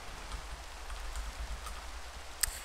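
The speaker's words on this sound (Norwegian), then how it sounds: "Nå begynner det å regne, det vil ikke ha noe av." Steady rain falls in the Minecraft video game, a soft continuous patter with a brief sharp tick near the end and no voices.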